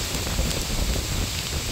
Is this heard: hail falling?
yes